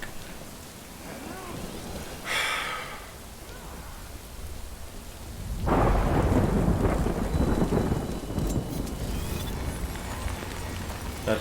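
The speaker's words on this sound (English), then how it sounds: "Good thing it was raining." Thunderstorm in the video game Death Stranding: steady rain hiss with a rolling thunder crack midway that swells into a loud, sustained rumble, with no speech.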